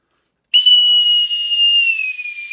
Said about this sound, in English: I'm going to whistle us all off